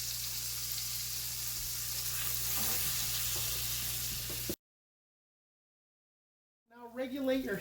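Pheasant meat frying in a pan, a steady sizzle for several seconds that cuts off into silence, followed by a short stretch of speech.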